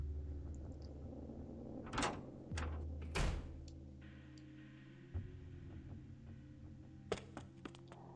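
A door bursts open in the Chaos;Child visual novel game, heard as a sequence of sharp clunks and rattles over a steady low hum of game ambience, with no talking.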